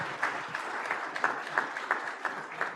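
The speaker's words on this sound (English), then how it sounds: "Please give them a huge round of applause." Applause from an audience at a school district board meeting, honoring parents: a soft, fairly distant patter of many hands with a few sharper claps standing out in a loose rhythm.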